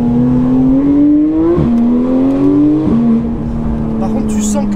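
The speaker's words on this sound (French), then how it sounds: "C'est impressionnant l'agressivité du moteur." Porsche 991.1 GT3 with its 3.8-litre flat-six revving hard and climbing through gears, a loud, close, rising wail broken by two quick shift dips, heard from inside the car.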